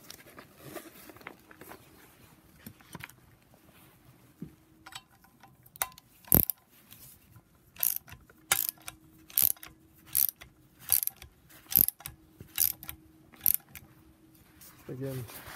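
Ratchet-style torque wrench doing final tightening of bolts on the wastegate of a BMW N54 engine in a 135i, a run of about nine sharp, evenly spaced clicks close up, after an earlier single click and quiet handling.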